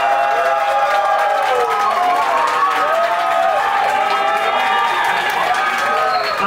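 A TV show audience claps and shouts with enthusiasm for a contestant; dense, continuous applause mixed with excited crowd cheering and voices.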